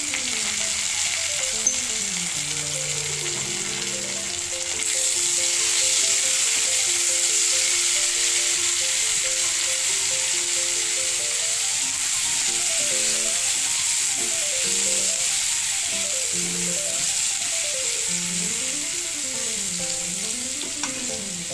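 Crushed ginger and garlic fry in a pan for a tori fish curry, a steady bright sizzle running the whole time, a little louder after the first few seconds, with faint tonal background music beneath.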